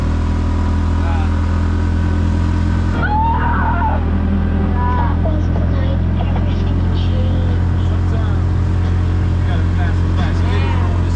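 A tuk tuk engine runs while driving in Laos, a loud, steady, low droning rumble that fills the whole stretch while people talk and exclaim over it.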